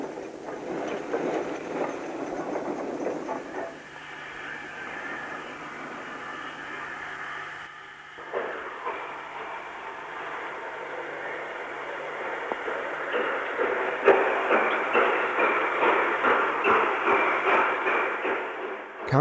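Royal Scot steam locomotive No. 46166 London Rifle Brigade backs empty coaches out of a station toward carriage sidings, a steady distant rumble and rolling hiss of wheels on track building gradually louder.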